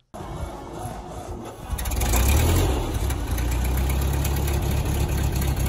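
A Ford N-Series tractor's 4-cylinder flathead engine runs at low RPM. It turns over and settles into a steady, loud, close low rumble that holds continuously to the end.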